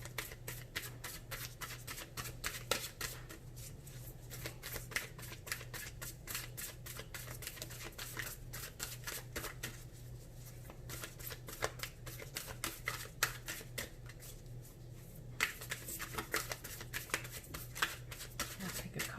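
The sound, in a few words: shuffling tarot cards for a reading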